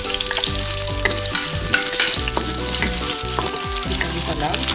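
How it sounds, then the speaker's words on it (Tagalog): Ginger and garlic sizzle loudly in hot oil while being sautéed for chicken liver and gizzard adobo, with a steady frying hiss and repeated clanks of a utensil stirring the pan. "Ayan, tumitis na yan"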